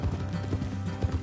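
Horse hooves clip-clopping in the Red Dead Redemption 2 video game, a quick run of dull thuds in steady rhythm, close and fairly loud, with no talk.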